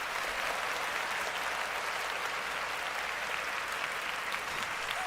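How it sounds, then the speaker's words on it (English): Dense, steady audience applause fills the whole stretch, loud and continuous, with no gaps or voices standing out. "And round of applause for the effort."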